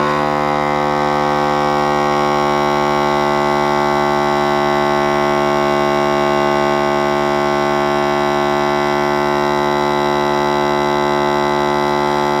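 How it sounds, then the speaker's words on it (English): A steady, loud electric motor hum drones continuously with no breaks as a QDH food vacuum sealer pumps air out of a canister, a constant buzzing pump tone throughout. "So it's vacuuming the air out of the canister."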